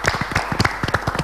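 A short burst of applause from a small group welcoming a youth team, with brisk, uneven hand claps close by and no voices over them.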